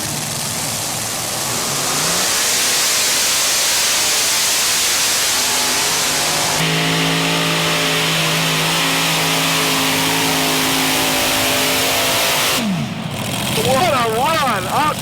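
A modified pulling tractor, the Klingenberg machine, roars loud and steady at a 1996 USHRA tractor pull in Bowling Green, its engine note shifting to a strong harmonic drone midway before cutting off near the end.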